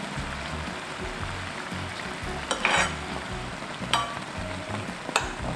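A whole eggplant simmers and braises in sauce over high heat in a pan, giving a steady bubbling sizzle with a few brief clinks from a utensil and no talk.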